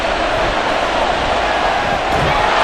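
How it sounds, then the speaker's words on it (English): Steady roar of a stadium crowd in Madden NFL 24 during a Colts versus Texans game, a dense continuous wash of noise that swells slightly toward the end. "A big play here as the crowd noise rises"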